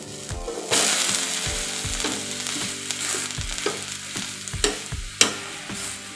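Besan pudla, a chickpea flour pancake, frying in oil in a pan: a steady close sizzle runs throughout, punctuated by sharp clinks and taps from a utensil, with no talking.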